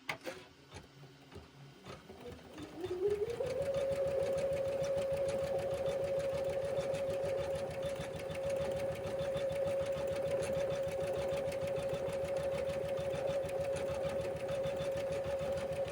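Sewing machine stitching a quilted embroidered portfolio, starting with a few quiet clicks and then spinning up into a steady, close, loud whirring hum with a rapid needle rhythm.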